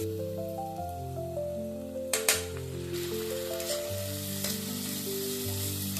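Ginger garlic paste sizzling in a pan of lightly golden onions, a steady loud frying hiss throughout with a couple of sharp clinks of a spoon stirring midway, no voices.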